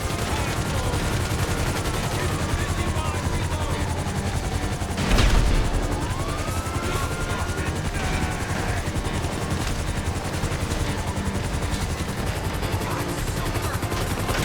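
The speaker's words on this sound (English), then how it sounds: "I had to rescue them in the police chopper" Police helicopter in GTA Online, a steady whirring rotor drone heard amid rapid gunfire and a sharp explosion-like blast midway, busy and continuous game action throughout.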